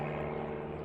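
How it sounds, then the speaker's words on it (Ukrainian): Airplane passing overhead near beehives, heard as a faint, steady engine drone lasting under a second, with no voices. "Літак літає."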